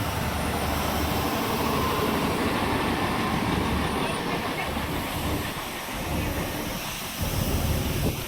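Translink NI train 3023 on the railway service to Bangor, a steady loud rumbling roar of the moving train heard from on board, continuous throughout.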